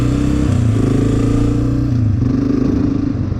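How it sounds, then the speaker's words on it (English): A dirt bike engine revs hard and steady close by as it accelerates from first gear, its pitch stepping as the gears shift. "let's start back in first gear and accelerate and do a smoother shift."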